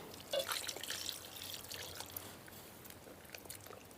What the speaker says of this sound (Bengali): বেলের মধ্যে দিয়ে দেবো জল।